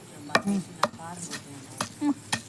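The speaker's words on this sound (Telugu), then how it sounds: "ఇప్పుడు మా లహరి దంచుతోంది" Green chilli and tomato chutney being pounded in a mortar: a handful of irregular, sharp thuds spaced roughly half a second apart, close and fairly clear, with faint voices murmuring in the background.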